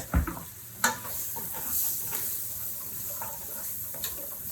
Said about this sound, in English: we're getting ready to make a roux here with our onions in there